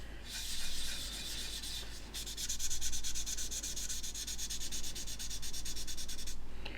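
Steady scratchy sanding of grey primer on a scale model, a pause near two seconds, then faster back-and-forth rubbing strokes continuing to the end, close and fairly loud.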